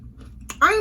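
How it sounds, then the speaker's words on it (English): A crunchy bite into food like a plantain chip, a short sharp crunch close to the mouth after a near-silent moment, ending in a brief vocal sound. "I didn't mean to crunch that up like that,"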